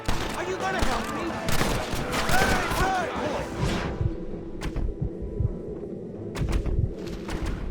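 Gunfire from powerful guns in the video game Red Dead Redemption, a dense, rumbling fusillade of shots and thuds running throughout, loud and continuous with a few sharper cracks near the end.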